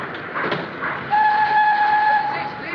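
A train at a railway station, heard as a steady low rumble of rolling stock with a sustained whistle tone rising midway through, fairly loud and near, with no talk over it.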